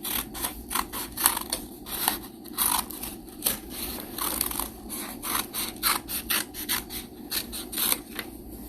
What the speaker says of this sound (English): I am going to cut some handles out of paper.